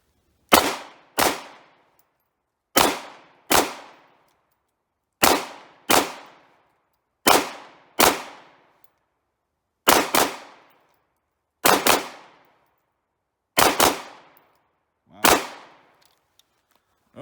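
Sharp pistol shots from a FEG P9M 9mm, a Hungarian Browning Hi-Power copy, fired in paired double taps at a range, ten loud close reports in five quick pairs with short pauses between them.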